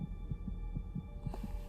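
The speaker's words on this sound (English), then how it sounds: "Your heart's beating pretty fast." A rapid, muffled heartbeat thumps in a steady rhythm, about six beats in under two seconds, over a faint electronic hum.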